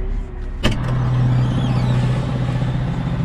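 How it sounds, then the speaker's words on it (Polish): A hydraulically driven turbo-filler on a slurry tanker starts with a sharp click, then settles into a steady low drone and whine. It runs continuously and fairly loud outdoors, with no talking. "To dźwięk turbonapełniacza, który hydraulicznie jest napędzany."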